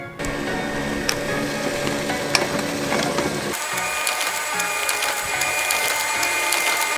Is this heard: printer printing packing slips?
yes